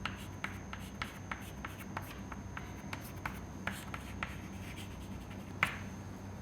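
Chalk or marker strokes on a lecture board while a pressure diagram is drawn, making faint, irregular taps and short scratchy strokes over a quiet room hum.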